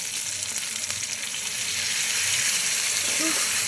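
Spices with ginger-garlic paste, chilli powder, food colour and tomato puree fry in a pan for chicken chana, a close, loud, steady sizzle with light stirring.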